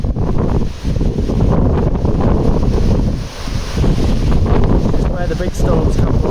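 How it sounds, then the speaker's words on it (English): Strong storm wind roars and buffets the microphone almost continuously, loud and close, rising and dipping in gusts with rain around and a voice speaking through it. "It is so windy."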